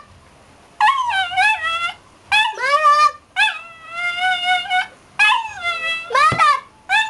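A dog being scolded whimpers and howls in a run of drawn-out, wavering cries, about five long bursts separated by short pauses, close and loud, with a person's brief scolding voice mixed in.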